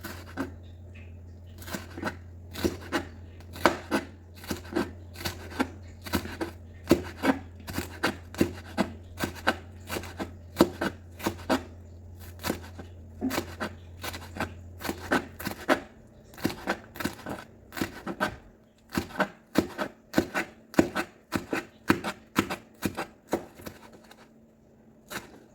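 Knife thinly slicing papaya for atsara on a cutting board, a fast run of sharp, evenly spaced chopping taps close by with a low steady hum under the first half and no talk.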